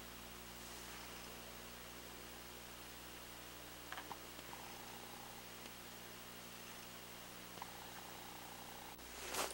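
A domestic cat purrs quietly while waiting for breakfast, a faint, even, continuous rumble under soft room hiss, broken only by a few small clicks and a brief rustle at the end.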